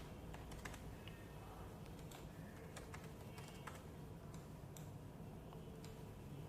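Steady run of fingers typing numbers on a computer keyboard, quick irregular clicks continuing for several seconds over a low background hum, close and fairly quiet.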